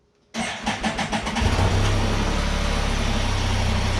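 A Can-Am Spyder three-wheeled motorcycle starts inside a garage: the starter cranks in a rapid pulsing burst for about a second, then the engine catches and settles into a loud, steady, close idle.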